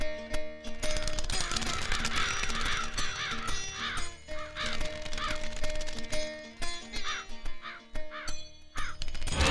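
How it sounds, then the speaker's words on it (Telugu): A crow caws repeatedly in a film scene, sharp harsh calls recurring in quick bursts, fairly close and loud over a steady tonal background. "యాడిదిరా కాకి?"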